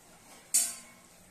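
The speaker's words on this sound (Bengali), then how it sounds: "তো বন্ধুরা, এবার দিয়ে দিচ্ছি চাপা ঢাকা।" A metal lid lands on a cooking pot of chicken with a single short, bright clink, close and fairly quiet in an otherwise still kitchen.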